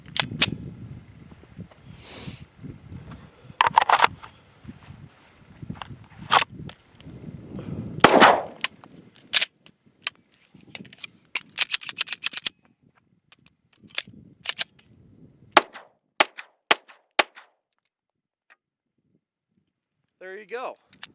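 A handgun alternates between live rounds and dry clicks on snap caps during immediate and remedial action drills, giving sharp, close reports spaced irregularly over about seventeen seconds, with rustling and handling noise between them and near-silence toward the end.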